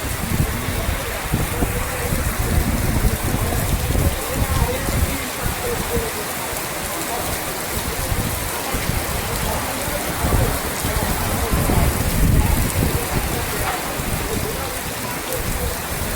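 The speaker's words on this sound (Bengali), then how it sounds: "এই যে বৃষ্টি শুরু হয়ে গেছে" Heavy, steady rain pelts a rooftop, a dense continuous hiss and patter with no breaks that stays loud and even throughout.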